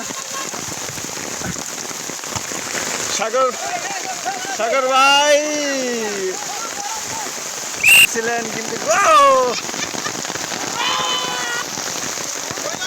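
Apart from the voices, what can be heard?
heavy rain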